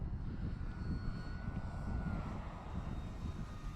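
Arrows RC Tecnam model airplane flying in steady powered turns, a faint, distant propeller drone humming evenly with no talk.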